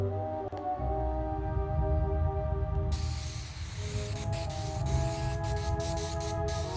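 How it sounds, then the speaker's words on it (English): In The Raven: Legacy of a Master Thief, a spray can hisses in a long, steady burst over a low, droning game soundscape, the airy spray rising sharply partway through and lasting to the end. "Sembra che sta spruzzando con lo spray."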